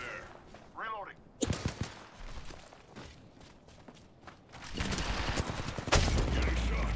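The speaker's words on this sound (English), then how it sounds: "Listen up, I'm getting shot at." Gunfire in a video game battle as the player is shot at mid-match: sharp bursts of rapid shots and short volleys, some loud and close, others more distant, mixed with heavy thuds and a player talking over the action.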